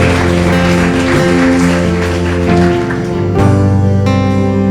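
Church congregation applauding during a worship celebration, dense clapping running the whole stretch under sustained music tones, loud and close, ending as the music swells.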